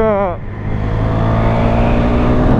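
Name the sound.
KTM Duke 390 single-cylinder motorcycle engine accelerating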